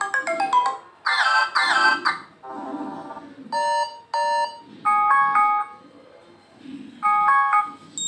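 Alarm ringtone previews playing on a Moto g8 phone, bright melodic electronic tone sequences in repeated bursts with short gaps between them, loud and close.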